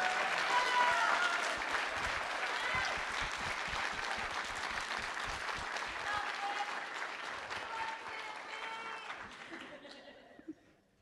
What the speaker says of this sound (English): We could like clap all night for them